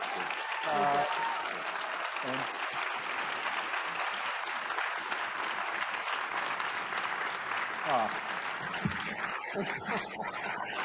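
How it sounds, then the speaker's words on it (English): A crowd at a community event applauds two presenters, a sustained wash of many hands clapping at a steady level with a few voices and a brief word over it before it thins out. "One more round of applause"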